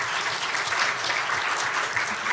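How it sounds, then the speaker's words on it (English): Audience at an education forum applauds its teachers, a steady wash of many hands clapping close by for the whole stretch, with no voices rising above it. "Let's give a round of applause for all our teachers, please."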